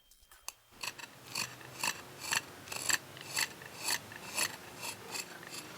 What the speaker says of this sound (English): she shapes the fine details using an ento,